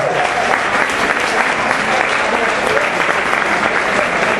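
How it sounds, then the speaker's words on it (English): Dense, sustained applause from a crowd at a book launch party in a New York venue, loud and steady throughout with no pauses. "let's give a round of applause for all these contributors who came out today"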